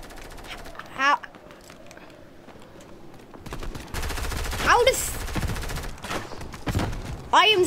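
Gunfire from a Fortnite Battle Royale weapon rings out in several short bursts and rapid volleys, with quieter stretches of game ambience between them.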